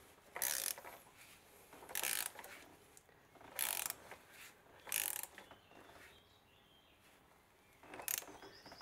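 A ratchet wrench tightens the oil filter housing on a 2007 VW Golf 1.9 TDI in five quiet bursts of rapid clicking separated by pauses.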